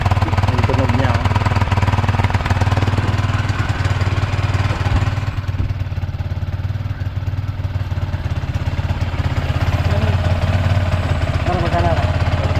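A motorcycle engine runs steadily after a wash, with a dense low drone and a rough, slightly choked exhaust note that drops briefly midway then returns, close and continuous throughout.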